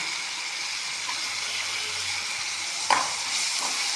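Tomatoes sautéing in a pan of onions for a cauliflower egg masala fry, a steady broad sizzle with a brief clack of a stirring utensil near the end, heard alone.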